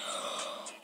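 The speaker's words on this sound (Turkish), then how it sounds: "derin bir nefes aldım" A single deep, breathy inhale lasting under a second, close and steady, with no other sounds around it.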